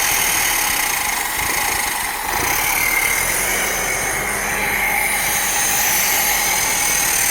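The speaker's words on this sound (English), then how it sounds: "That's probably why it's not idling good." A 1982 Datsun 720 4x4 truck engine with uncleaned carburetor idle jets idles nearby, loud and steady, with a slightly uneven, rumbling rhythm running throughout.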